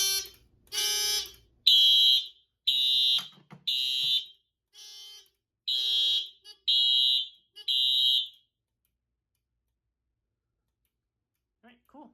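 A Simplex TrueAlert fire alarm sounds after smoke detectors trip, giving a run of loud, regular electronic horn or chime pulses with short gaps that then stop, followed by near silence.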